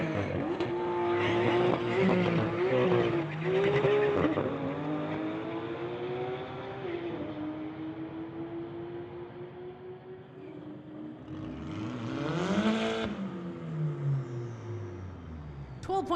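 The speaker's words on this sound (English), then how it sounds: "Mercedes versus Porsche. Should be a good drag race right here." A Mercedes and a Porsche launch side by side in a street-legal drag race, engines revving hard and pitch rising through the gears, then fading down the strip before another loud engine pass, with a faint announcer voice underneath.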